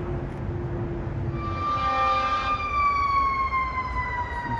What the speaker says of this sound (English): Some sirens. Obviously some fire engines going somewhere.